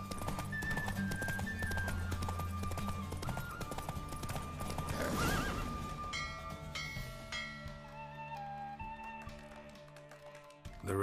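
Hoofbeats clatter as a horse gallops in a race in The Witcher 3, rapid rhythmic clip-clop under bright game music, the pounding fading out toward the end.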